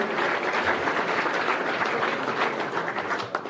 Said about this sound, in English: give a round of applause to his wonderful wife, Dana, and his 2 children